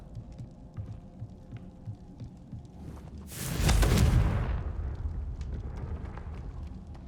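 A Confringo fire spell goes off in Hogwarts Legacy with a sudden loud whooshing blast and a deep rumbling boom midway. A sustained low roar follows under a steady game background hum.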